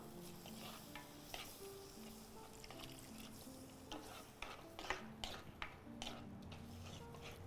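Coconut milk goes into a simmering fish curry, giving soft stirring, gentle sizzling and bubbling, fairly faint and continuous, with light clinks from a utensil.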